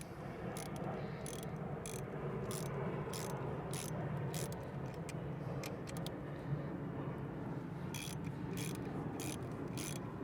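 A 10 mm ratchet turns the screws on a high-pressure fuel pump of a Hyundai Elantra N, giving repeated bursts of close, fast clicking against a steady mechanical background hum, with no talking.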